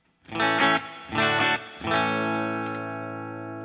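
An electric guitar through a Headrush Gigboard amp modeler plays three strummed chords, the last ringing out with a long, washy reverb tail that slowly fades.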